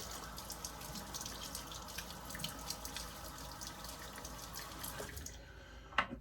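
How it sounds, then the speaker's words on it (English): Running tap water pours steadily into a sink while a face is splashed and wetted before shaving, with a burst of splashing and drips near the end. "Let me get my face wet here."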